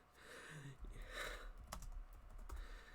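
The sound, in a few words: typing on a computer keyboard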